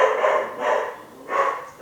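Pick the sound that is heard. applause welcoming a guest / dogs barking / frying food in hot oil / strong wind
dogs barking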